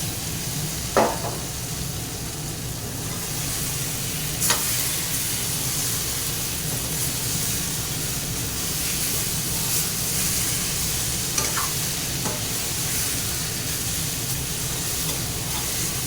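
Cauliflower tipped into potatoes already frying in spiced oil, giving a steady close sizzle and hiss throughout with a few brief sharp clinks or stirring scrapes standing out.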